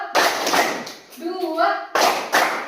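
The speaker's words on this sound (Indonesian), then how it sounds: "Tepuk dua." Children in a classroom clap their hands together in two sharp, loud bursts, with a short stretch of voice between them.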